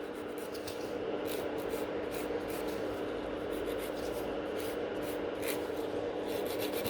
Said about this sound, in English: File the free edge.